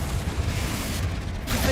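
Confringo fire spell blasting during a Hogwarts Legacy combat fight, a dense, loud, sustained roar of explosive noise that swells slightly at the end.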